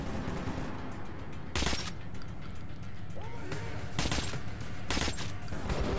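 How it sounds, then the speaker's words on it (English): Gunshots in the video game Metro, several sharp separate blasts fired one after another over a constant rumbling background, with faint voices. "I can shoot them one at a time"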